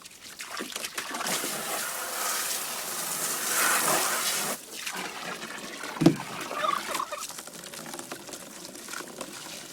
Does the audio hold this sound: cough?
no